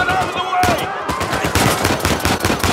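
Enemy gunfire in Uncharted 4 rattles in dense automatic bursts mixed with single shots, loud and continuous through the whole stretch, with game music and effects underneath.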